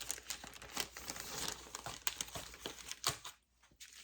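Red foil letter sheet being handled, with faint, irregular crinkling and rustling bursts of thin foil, close by and quiet, no talk.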